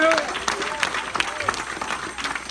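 Church congregation applauding during a sermon, a broad wash of clapping and crowd noise with a voice speaking over it throughout.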